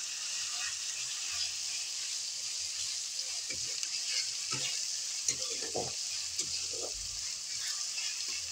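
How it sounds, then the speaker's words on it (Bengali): Onions fry in a pan with a soft, steady sizzle and occasional scraping stirs, fairly quiet and close, with no one speaking. "এটা একটু ফ্রাই হতে থাকে"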